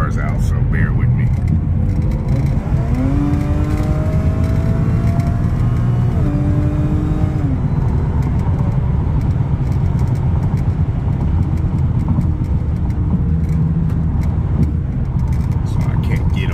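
Steady road noise of an Audi A6 3.0T driving at speed on a busy freeway, a constant engine and tire roar with a rising whine from the engine partway through.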